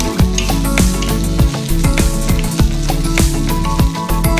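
Curry leaves with mustard seeds, urad dal and dried red chillies sizzle and crackle loudly in hot oil for a mango pickle tempering: a dense, continuous fry with rapid popping, up close and with no talk.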